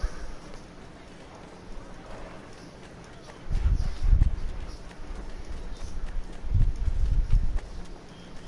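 Horse hooves clip-clopping in the Assassin's Creed 3 video game, two faint bursts of hoofbeats over a quiet ambient background.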